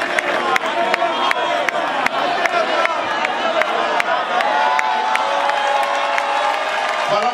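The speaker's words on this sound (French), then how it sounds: "Applaudissez très fort pour elle" An audience at a Congolese show event applauds and cheers loudly for the culture minister, a dense continuous roar of clapping and shouts with sharp claps standing out.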